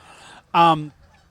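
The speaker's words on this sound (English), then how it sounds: "Listen to those geese." A single loud, nasal goose honk rings out close by, lasting under half a second, with quiet background before and after.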